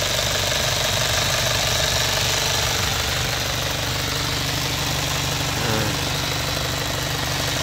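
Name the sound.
2005 Isuzu Fuego engine idling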